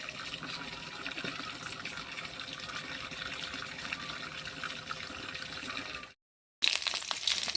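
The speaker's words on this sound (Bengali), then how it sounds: "বন্ধুরা জল ছেড়েছে, আমি এখন জল ধরবো।" Tap water pours steadily into a container in an outdoor washing area, a continuous rushing splash that briefly cuts out near the end and then resumes.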